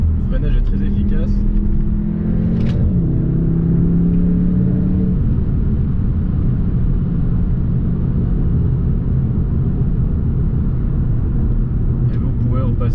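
A car's engine revs hard while driving, its pitch climbing and sweeping across gear changes over a steady, close road rumble, loud throughout.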